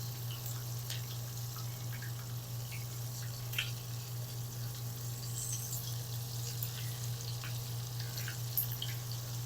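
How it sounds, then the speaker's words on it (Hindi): Beef shami kababs frying in a pan give a steady low sizzle with scattered small pops and crackles over a constant background hum, quiet and even, with no one speaking. "तो 2 मिनट हम इसी साइड से फ्राई करेंगे इनको।"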